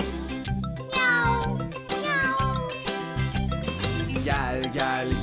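Amid a bouncy children's song with music, a cat's meow is voiced several times, sung or imitated by a performer rather than made by a real cat, rising and falling over the backing track.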